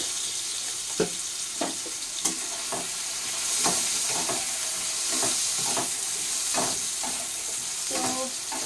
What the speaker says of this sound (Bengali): আলুটা আগে ভালো করে একটু ফ্রাই করে নেব লবণ হলুদ দিয়ে